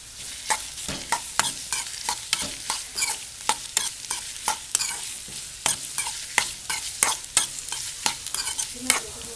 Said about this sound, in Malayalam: ഈ ഓയിലിലോട്ട് ഉള്ളി ഫ്രൈ ചെയ്യാം.